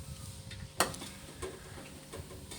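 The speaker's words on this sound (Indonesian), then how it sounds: "Jadi aku tumis seperti ini aja, seperti bumbu pada umumnya." Grated papaya with spice paste sautés in a pan with a soft steady sizzle, a sharp clack of a utensil against the pan, and faint scraping stirs.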